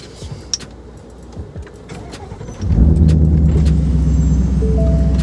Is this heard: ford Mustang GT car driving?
yes